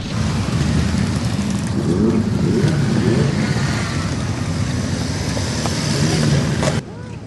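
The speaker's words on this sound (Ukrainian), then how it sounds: "Розвернувши свої мотоцикли в Хмельницькому напрямку, бакери вирушили назад до Польщі." Bikers on a motorcycle ride from Poland revving and pulling away, a loud continuous engine roar that holds for several seconds before dropping off sharply near the end.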